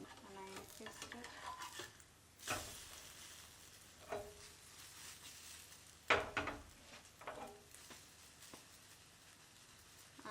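Food frying in an oiled non-stick pan, a quiet low sizzle broken by a few sharp scrapes and knocks of a utensil against the pan, with no talk.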